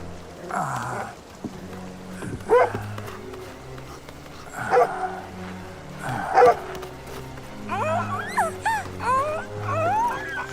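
A dog in an animated series barks in short bursts and lets out high whimpers and yips, heard close over a soft background score with no talking.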